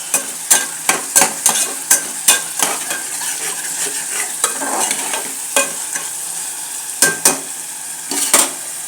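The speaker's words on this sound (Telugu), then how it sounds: "చికెన్ కూడా వేసేస్తానండి." Chicken pieces sizzle steadily in a pan for chicken kurma, while a spoon scrapes and stirs in repeated sharp strokes, loud and close with no talk.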